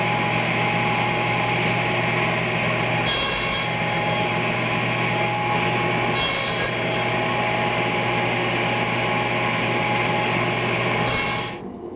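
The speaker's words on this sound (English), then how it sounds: "I just position it so that I can see where the blade's going to cut, hold it down and push it forward." A table saw runs steadily and loud as wood pieces are pushed through on a sled jig, with brief higher rasping bursts as the blade cuts, then the motor winds down at the end.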